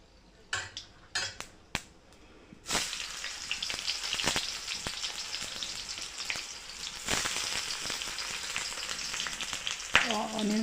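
A few sharp clinks of utensil on cookware come first, then onions frying with whole garam masala in hot oil burst into a steady sizzle, with scattered spoon scrapes and knocks against the pan as they are stirred.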